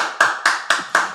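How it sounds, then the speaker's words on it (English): Five slow, evenly spaced hand claps from a small group, sharp and close, each striking together with a short decay in a casual podcast setting. "Round of applause for the guest boys"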